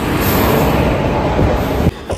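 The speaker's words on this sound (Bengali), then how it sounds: "চলে এসছে আমাদের ট্রেন" The Ganadevta Express rolls into a station near Bardhaman, a loud, continuous rumble of wheels and carriages close by that cuts off abruptly near the end, with no talking.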